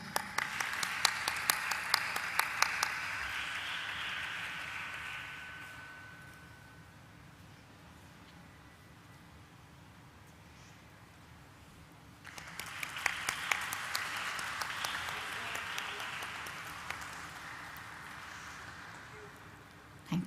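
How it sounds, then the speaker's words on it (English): An audience at a company stock listing ceremony claps warmly in two bursts, loud dense applause that fades to quiet room tone before a second round swells up and tapers off. "Please let's give a warm applause to Mrs. Joyita Sen, Director,"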